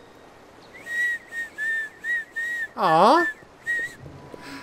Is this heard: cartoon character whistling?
yes